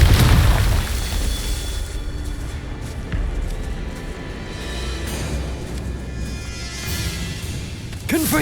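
Confringo fire spell explosion in Hogwarts Legacy, a heavy booming blast at the start that rolls into a long rumbling tail, followed by another burst near the end, loud and close with no voices over it.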